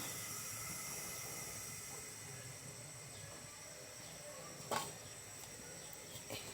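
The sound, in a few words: stove being turned on, burner hissing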